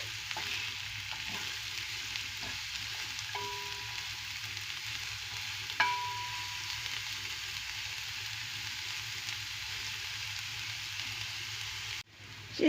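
Steady sizzling of potato patties frying in a pan, a constant crackle with a few faint clinks, then a brief knock near the end.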